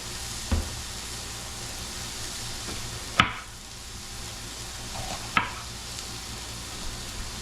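Skillet beans sautéing in a pan give a steady, soft sizzle with quiet stirring, broken by a few sharp utensil clinks against the pan.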